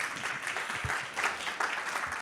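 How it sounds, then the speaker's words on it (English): Brief, moderately distant applause from an audience at a devotional talk and drama event, with a burst of scattered clapping. "She applauded."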